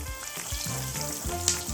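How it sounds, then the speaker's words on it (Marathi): Square-cut pieces of coriander vadi fry in hot oil with a soft, continuous sizzle and bubbling, quiet and close, with no talking. "तर आता आपण ह्या तळून घेऊया."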